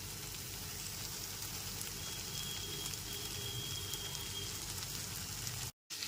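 Fried pointed gourd (potol) goes into a spiced masala in hot oil, giving a steady, close sizzle and crackle of frying throughout, with a brief cut to silence near the end.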